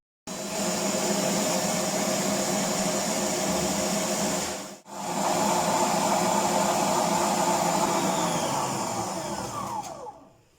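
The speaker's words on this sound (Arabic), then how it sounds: "صافي دابا غادي نبداو نطربوا الكلاص ديالنا حتى كطلع لينا الكريمه" An electric mixer whips a homemade ice cream mixture, a loud steady whirring that breaks off briefly midway, then resumes and winds down near the end.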